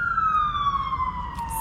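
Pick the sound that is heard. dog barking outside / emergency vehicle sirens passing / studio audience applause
emergency vehicle sirens passing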